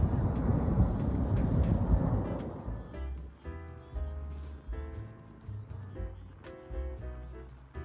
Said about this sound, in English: Some big helicopters gave us a nice flyby.